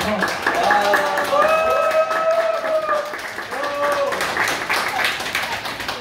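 Lecture audience on redevelopment and reconstruction keeps clapping hard at intermission, a continuous crowd of hands under cheering voices and shouts.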